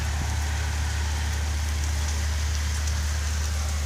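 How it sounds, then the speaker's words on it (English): Wind-driven storm rain in Wyoming makes a steady, dense hiss that continues without a break for the whole stretch, over a constant low rumbling hum. "Sideways rain like we get in Texas"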